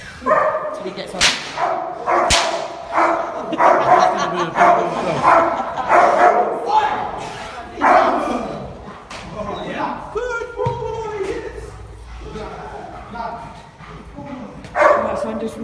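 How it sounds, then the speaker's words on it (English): A dog barks and yips repeatedly amid loud, overlapping talk and crowd noise, the barks rising and falling through the whole stretch. "I love that dog."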